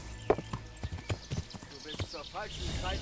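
Horse hooves clip-clopping in Kingdom Come: Deliverance, a run of distinct hoof strikes at a steady trot, close by, with someone talking over them.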